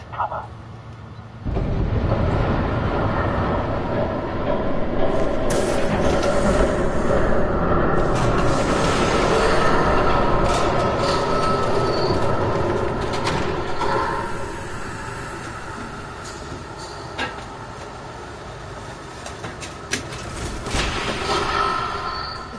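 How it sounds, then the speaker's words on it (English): A train rumbles past in a PS4 video game, a loud sustained roar with clanking and squealing wheels lasting throughout, rising abruptly after a moment of quiet and fading slightly before swelling again. "There's a train coming. Take cover."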